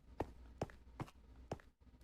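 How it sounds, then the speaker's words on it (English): Footsteps of someone else walking in a video game: four quick, evenly spaced soft steps at roughly half-second intervals, fairly faint and close, with no talking. "that was someone else walking for sure"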